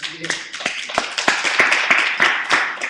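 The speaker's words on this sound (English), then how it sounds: "Clap it up for Jason." Audience clapping at a live-streamed talk, a few seconds of steady applause with a close hand clapping in front, loud and continuous, while someone talks over it.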